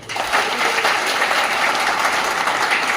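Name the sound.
applause for library volunteers at teachers' day program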